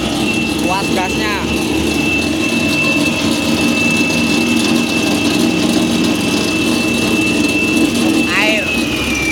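An asphalt cutting machine fitted with a 16-inch NLG blade runs loud and close, a steady engine roar with a sustained high whine, briefly joined by short voices.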